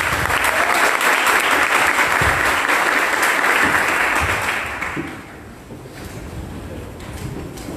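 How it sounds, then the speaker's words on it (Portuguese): Audience applause at a political rally defending democracy and freedom of expression, greeting a congressman: a loud, dense wash of clapping for about five seconds, then quickly thinning to a quieter murmur. "Uma salva de palmas."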